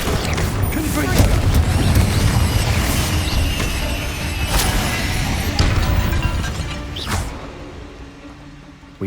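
Spell explosions from the Confringo blasting curse in Hogwarts Legacy, fought in the Feldcroft catacomb, with loud booms and crashing bursts over dense game music and effects, with several sharp hits along the way.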